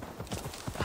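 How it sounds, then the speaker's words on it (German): Horse hooves clip-clopping in Assassin's Creed Valhalla, a quick run of soft rhythmic thuds, faint and close, alone without talk. "Pferd!"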